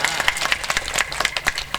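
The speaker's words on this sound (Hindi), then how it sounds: "अरे ताली बजाओ भाई।" Audience at a village katha gathering in Shahipur clapping in a brisk, fairly regular rhythm, close and moderately loud, with scattered individual claps.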